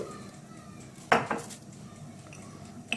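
A spoon stirs small spoonfuls of spices, black pepper, cumin and salt together in a bowl, producing a quiet scrape and a short pair of sharp clinks partway through, then soft shuffling.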